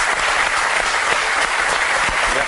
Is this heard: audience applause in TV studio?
yes